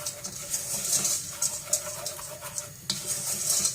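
A saucepan of thickening dry caramel is swirled on the stove, giving a soft continuous sizzle and bubbling with faint scraping and metal clinks, close and fairly quiet, with no voices.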